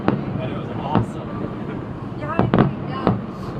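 Canada Day fireworks in Edmonton burst in several sharp booms spaced across a few seconds, over a steady background of crowd murmur and wind.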